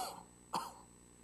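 A single short cough or throat clearing from a preacher with a lingering cold during a Sunday church service, one brief burst standing out alone against a quiet room.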